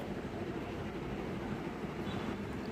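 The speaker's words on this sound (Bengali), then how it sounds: "আমরা যেটাতে যাব সেই মেট্রো রেল চলে এসেছে" Steady low rumble and rolling noise of a metro train, continuous and fairly loud with no voices.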